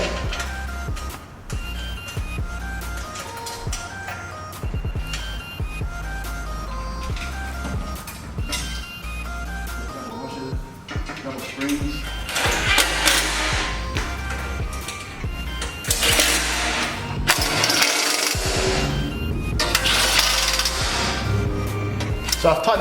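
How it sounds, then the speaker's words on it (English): Bolts being tightened while fitting a Rockarmor premium steel bull bar and bash plates to a 2009-2015 Toyota LandCruiser 200 series, heard as a busy run of close mechanical clicks, ratcheting and clanks that grows louder midway, with some talk. "and then I'm going to tighten them all up."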